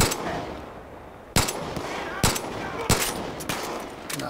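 Gunfire in the video game Far Cry 5: several loud, sharp shots spaced about a second apart over constant background game noise.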